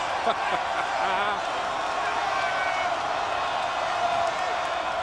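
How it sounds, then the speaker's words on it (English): A basketball crowd at a Pitt vs Florida State game roars in a steady, dense wash of cheering that runs the whole time, with a commentator talking over it. "that got the crowd going"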